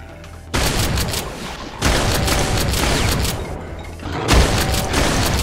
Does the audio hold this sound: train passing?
no